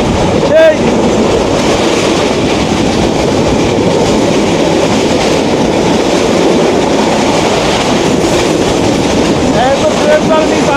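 The Jayantika Express rumbles loudly along the rails on a daytime trip, a continuous close roar of wheels and carriage noise with faint clickety-clack and brief squeals, recorded from inside the train.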